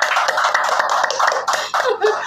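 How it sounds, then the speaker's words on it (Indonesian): Studio audience applause, a brief burst of clapping mixed with light laughter, close and steady throughout. "Tepuk tangan buat Indri."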